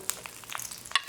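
Leeks frying in olive oil in a pan for paella, soft crackling sizzle with a few sharp pops and stirring scrapes, close and fairly quiet, no voices.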